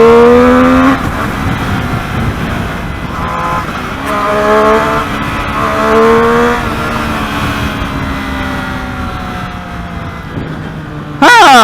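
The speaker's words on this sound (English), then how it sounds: "this is a test ride motorcycle" A Triumph Street Triple 765 motorcycle on a test ride, its engine revving up through the gears in rising whines with shifts between, loud and close, with wind noise throughout.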